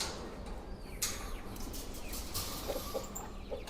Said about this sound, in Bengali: এই পাশে মুরগি আছে, ব্রাহ্মা মুরগি